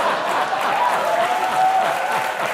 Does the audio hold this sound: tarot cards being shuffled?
no